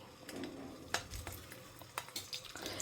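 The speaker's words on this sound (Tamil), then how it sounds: "அதை அப்படியே இதில் வச்சு இடுக்கியில் வச்சு அப்படியே பெரட்டி விட்டு அதை ஷாலோ ரோஸ்ட் பண்ணால் போகிறோம்" Stuffed snack peppers shallow-fry in hot oil with a soft, steady sizzle, while tongs and a pan give a few sharp metallic clinks and scrapes up close.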